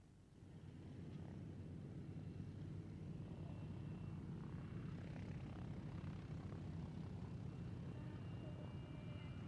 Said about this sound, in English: This B-17 is Sally B, or as it's been masquerading recently,